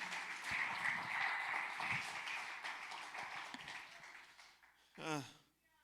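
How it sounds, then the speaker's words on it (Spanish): Church congregation applauding during an afternoon worship service, a steady wash of clapping that fades out, followed by a brief voice at the end. "adóralo en esta tarde con tus aplausos"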